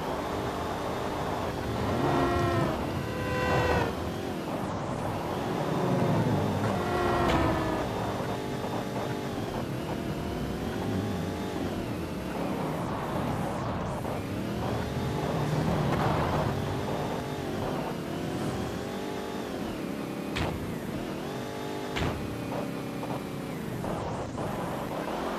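Car engine in the mobile game Payback 2, a steady droning motor with shifting pitch that rises and falls over a continuous loud game soundtrack, with no speech.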